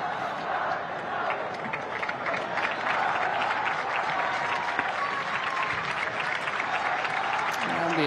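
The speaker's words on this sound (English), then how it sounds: "And the applause" Home fans at a Saudi Pro League football match between Al-Hilal and Al-Shabab applaud steadily, a dense wash of clapping and crowd noise that stays even and continuous throughout.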